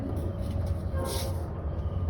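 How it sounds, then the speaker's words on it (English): Trains passing outdoors near a doorway, heard as a steady low rumble with faint rolling noise throughout, fairly distant and continuous, with no speech over it. "Hear the trains?"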